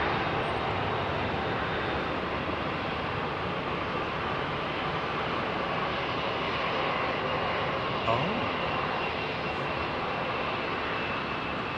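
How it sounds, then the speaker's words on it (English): An Airbus A220 airliner's jet engines roar in a loud, steady broadband wash at an airport, holding constant throughout with no break. "The A220, Airbus's newest acquisition."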